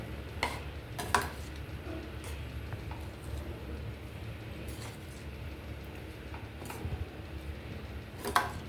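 Egg fried rice with coriander stirred in a pan, faint scraping and a few sharp metallic clinks of a spoon against the pan over a low steady background hum.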